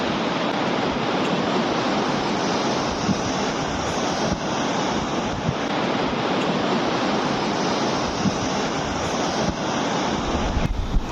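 Sea waves surging onto a beach on a busy weekend morning, a continuous loud wash of surf mixed with wind buffeting the microphone, with no voices.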